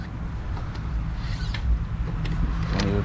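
A Volkswagen CC oil filter housing is turned counterclockwise by hand, producing low mechanical creaking and grinding with faint plastic clicks, close up and steady throughout.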